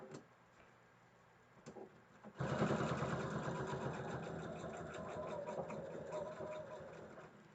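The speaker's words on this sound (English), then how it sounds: "So I'm back stitching at both ends." A sewing machine back stitches at the end of a seam on a fabric mask, starting after a few faint clicks and then running in a steady, fast mechanical whir, fairly close and quiet.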